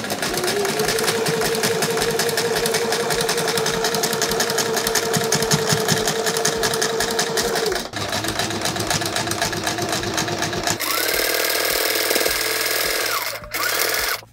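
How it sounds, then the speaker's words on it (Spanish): Sewing machine stitching a fabric face mask, a steady close motor whir with rapid needle chatter running for several seconds, pausing briefly, then resuming with a slightly different tone near the end. "ahora voy a coser la parte de abajo"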